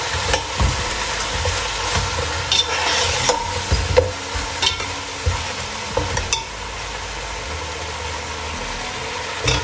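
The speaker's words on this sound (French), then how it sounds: "Je vais rajouter le vinaigre de riz. Je vais laisser un peu pour que ça s'évapore." Rice vinegar hitting a hot pan over high heat for a turkey stew, giving a steady close sizzle with stirring scrapes and occasional sharper crackles throughout, no voices.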